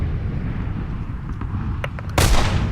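A shotgun blast in a first-person video game rings out once near the end, loud and close over a steady rumble of game noise, after a few small clicks.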